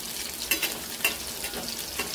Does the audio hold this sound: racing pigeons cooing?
no